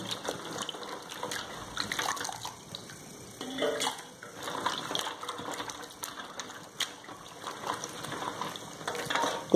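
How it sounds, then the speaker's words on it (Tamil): Water sloshing and splashing continuously as green beans are rinsed and stirred by hand in a kitchen, with steady wet rustling throughout. "பீன்ஸ் ஒரு வாட்டிக்கு 2 வாட்டி அதை நல்லா அலசி"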